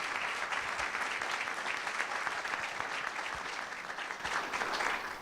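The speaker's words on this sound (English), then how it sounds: "So I think we need to give a little round of applause to both of these elected officials." An audience at a fiscal policy forum applauds two elected officials, a steady, moderately distant patter of many hands that holds evenly throughout with no voices over it.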